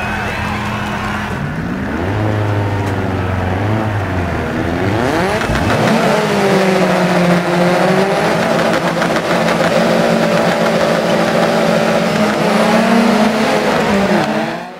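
A Peugeot Group B rally car in DiRT 4 sits loud and close on a Norwegian start line, revving before launching and accelerating hard through climbing gears, engine roar steady throughout.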